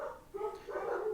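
Dogs bark and whine indoors in a couple of short, muffled bursts, moderately distant and somewhat faint, with no speech.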